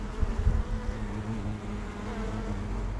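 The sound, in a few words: bees buzzing at a hive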